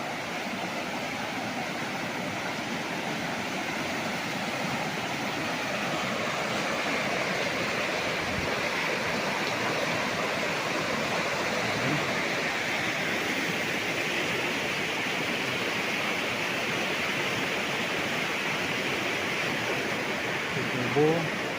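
A river's current flows steadily past a resort cottage in Cavinti, Laguna, giving a constant, even rushing wash of water throughout.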